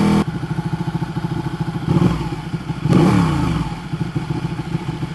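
Ducati 1299 Panigale S sportbike under way, its engine pulsing steadily at close range, with quick-shifter gear changes marked by brief cuts and thumps and bursts of revving around two and three seconds.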